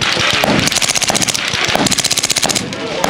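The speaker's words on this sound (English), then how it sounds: "I got a full auto 9 for you to check out." Full-auto 9mm machine gun fires sustained rapid bursts at close range, a loud rattling stream of shots with a short pause between strings.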